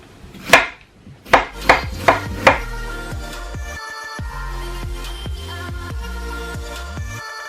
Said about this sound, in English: The ginger, I'll cut it and add it straight to the plate.